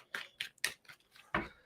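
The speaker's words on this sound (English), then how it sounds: "2 shuffles." Tarot cards are shuffled with a few quick riffling, papery bursts, close and fairly quiet, spaced unevenly with short gaps between them.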